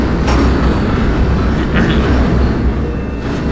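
A metro train departs in the Garry's Mod Metrostroi video game, a loud, steady rumble of wheels and rolling stock with faint rattling clicks, close and continuous.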